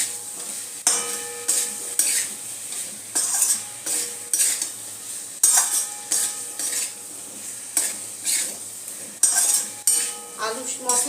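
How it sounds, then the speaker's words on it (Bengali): A metal spoon stirs potatoes with salt and spices in a pan for aloo dum biryani, giving repeated scraping clinks against the metal in an irregular rhythm over a soft sizzle, close and with no talking. "সব একসাথে মিশিয়ে নেব।"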